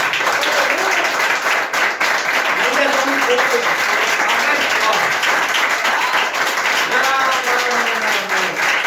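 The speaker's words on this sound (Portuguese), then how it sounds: "Agora eu peço à igreja que dê uma salva de palmas pelos nossos visitantes." A church congregation breaks into sustained, dense applause that fills the room, while a voice keeps speaking loudly over the clapping.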